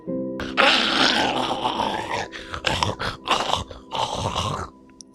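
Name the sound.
growling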